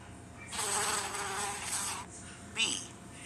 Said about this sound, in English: Where is the bee?